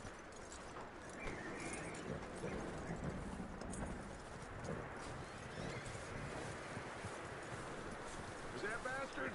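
Horse hooves clip-clop in the video game Red Dead Redemption 2, a quiet, steady patter of footfalls under soft ambient noise that continues throughout.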